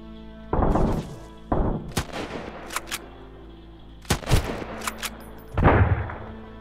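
Bursts of video game gunfire in Sunken Land crack out in irregular clusters, sharp shots and short volleys separated by brief pauses, loud and close.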